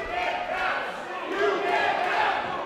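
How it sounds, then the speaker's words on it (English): A live wrestling crowd at an indoor Brooklyn show jeering at the referee, a loud, sustained roar of many raised voices with shouting swelling and falling, close and dense. "Brooklyn crowd getting on the referee"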